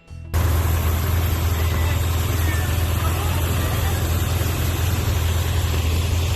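A Corvette with a 383 stroker V8 fires up abruptly just after the start, then settles into a loud, steady, deep idle that rumbles close by without a break.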